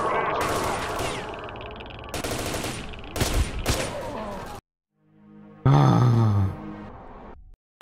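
Bursts of automatic gunfire crackle in S.T.A.L.K.E.R.: Shadow of Chernobyl, with a grunt in between. After a short silence a distorted, echoing in-game voice speaks.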